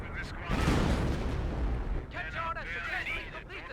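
Artillery fire in the real-time strategy game Company of Heroes, a loud sustained rumble of blasts with crackling bursts, followed by quieter battle noise and shifting game effects.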